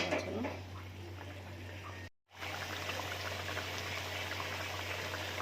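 Tengra fish curry simmers on a low stove flame, a steady close bubbling hiss with a constant low hum underneath, cut by a brief dropout midway.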